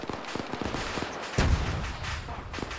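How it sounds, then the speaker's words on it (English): An RPG fires in a military shooter video game: one sudden heavy blast rises midway over a steady background of distant gunfire and battle noise. "Someone just shot an RPG."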